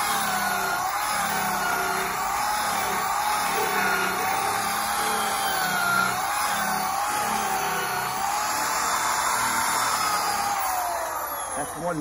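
A power tool grinds grooves into wood for faux barnwood, giving a steady, continuous high whine with a wavering pitch as it is pressed in, close and loud throughout.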